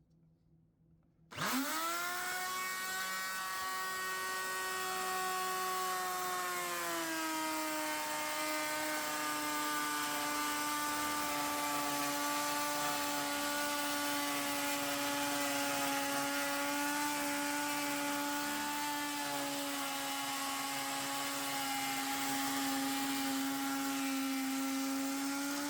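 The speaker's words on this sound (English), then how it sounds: "So today we tested out our router sled" A handheld router mounted on a VEVOR router sled cutting about 3/8 inch deep, a loud, steady high-pitched whine that starts abruptly and runs continuously close by with no talk.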